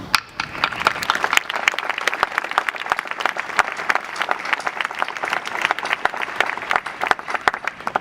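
An audience at a Boston College graduation ceremony claps throughout, producing dense, continuous applause with sharp individual claps standing out. It stays steady and fairly loud for the whole stretch.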